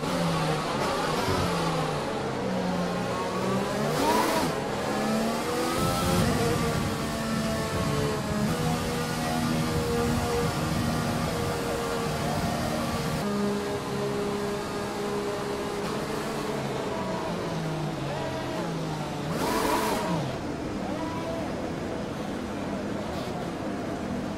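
A Formula 1 car's engine in F1 2020, Azerbaijan circuit, droning steadily close up with pitch rising and falling through gear changes and sharp revving bursts, continuous throughout.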